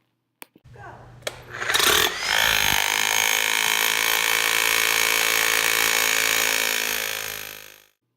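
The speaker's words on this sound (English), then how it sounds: "Third, the vibrating compaction hammer is used for the weighted test." A laboratory vibrating compaction hammer compacting granular material under an added 4.4 kg weight: a few sharp knocks, then a loud, steady buzzing drone that holds for about five seconds before stopping abruptly.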